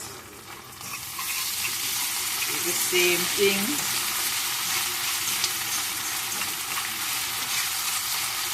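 Food sizzles and fries steadily in a home kitchen pan with ketchup being added, a continuous bright crackle with soft stirring scrapes, while a voice speaks briefly over it.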